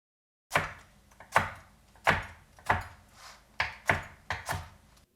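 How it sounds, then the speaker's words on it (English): A knife cutting cooked bacon into thin strips on a board, making seven crisp, evenly spaced chopping thunks close by in a quiet room. "we're just going to cut these into thinner strips as well"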